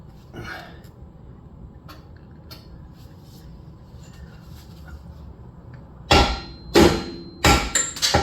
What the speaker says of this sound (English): I shouldn't probably use the brass hammer directly on it